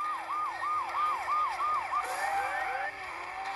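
A wailing police siren in a mobile video game sweeps up and down in quick repeated cycles, then shifts to a different, overlapping wail, with engine noise underneath.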